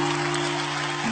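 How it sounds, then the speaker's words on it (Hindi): Steady, dense clapping from a birthday gathering crowd, even and sustained throughout with a constant electronic hum beneath it and no voices standing out. "ओह जोर से तालियां हो जाए"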